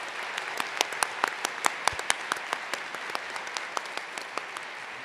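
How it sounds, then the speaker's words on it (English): Audience at a College of Information Science spring convocation applauding online graduates: sparse, distinct individual claps from a modest crowd, steady and fairly near, fading slightly toward the end. "Please, one big round of applause for our online students."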